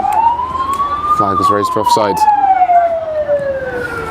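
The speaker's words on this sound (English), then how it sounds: "Apologies if any police sirens picked up there" Police car sirens wail steadily throughout while passing close by a football ground during a match, the pitch sliding up then down, with someone commentating over them.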